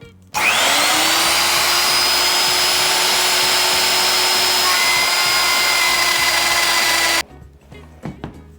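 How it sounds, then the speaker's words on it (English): A large router cuts into a solid oak worktop for a camper van kitchen, a loud close high-pitched whine with a steady motor tone held for about seven seconds before stopping. "Going to use the big boy router."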